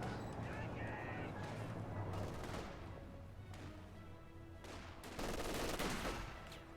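Rapid bursts of machine gun and rifle fire from a World War II strategy video game match, continuous and dense, with overlapping explosions and battle noise throughout.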